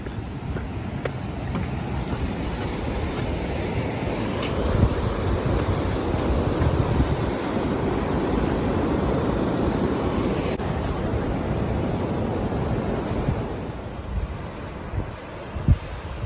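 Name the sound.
waterfall on hiking trail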